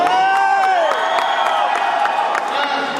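At a fight event, a crowd cheers and applauds loudly and continuously, with whoops and shouts rising over the clapping for a retiring fighter.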